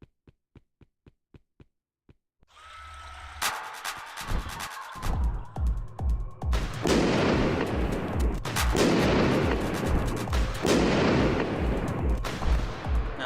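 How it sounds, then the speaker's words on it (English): Rocket launcher fire in a horror-themed video game: a run of short, sharp clicks gives way to heavy booming blasts and rumbling explosions that swell and repeat loudly, with no talking. "it definitely wants me to use the rocket launcher"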